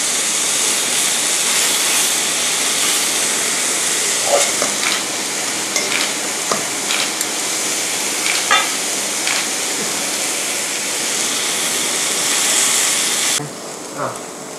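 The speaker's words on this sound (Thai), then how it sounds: "จะทำให้เนื้อหมูที่เรานำลงย่างเนี่ยไม่ติดกระทะด้วยนะคะ ไฟที่ใช้นะคะควรจะใช้ไฟกลางนะคะ" Lemongrass pork grills in a frying pan over medium heat, a loud continuous sizzle running for the whole stretch with scattered pops and ticks, easing slightly just before the end.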